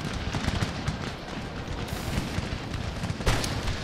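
Musket volleys crackle from line infantry in a Napoleonic-era battle in Empire: Total War with the Darthmod mod, a dense, continuous rolling rattle of gunfire with a sharper burst near the end.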